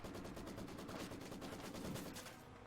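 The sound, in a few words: machine gun fire in Company of Heroes 2 video game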